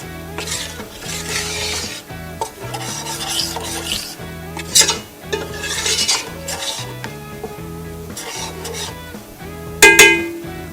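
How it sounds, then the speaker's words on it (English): A roux of flour and fat stirred in a pan for a Cajun shrimp stew, the spoon scraping and rasping in a steady repeating rhythm, close and fairly loud, with occasional sharper clinks against the pan. "this is what we do when we start to make a roux"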